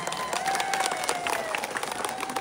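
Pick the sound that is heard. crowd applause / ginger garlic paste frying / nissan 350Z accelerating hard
crowd applause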